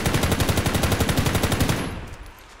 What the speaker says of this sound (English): I'm gonna shoot for a second, don't mind this.